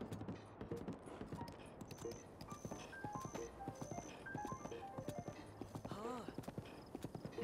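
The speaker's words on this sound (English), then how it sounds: "This horse is fucking going hard." A horse gallops in Zelda: Breath of the Wild, rapid rhythmic hoofbeats drumming steadily throughout over light game music tones, with a brief whinny near the end.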